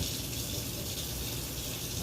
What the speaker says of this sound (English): Rinse out my little pot here.